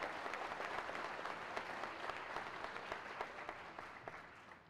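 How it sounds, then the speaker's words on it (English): Sustained applause from the audience at a high school graduation ceremony, steady and fairly distant, with scattered individual claps standing out as it slowly tapers near the end. "Please join me in applauding their outstanding work, dedication, and perseverance."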